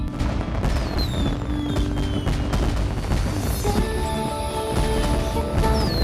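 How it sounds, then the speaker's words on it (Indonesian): Fireworks bursting and crackling over several seconds, with whistling rockets rising and a dense mix of pops and booms at a distance. "kembang api yang paling ditunggu-tunggu"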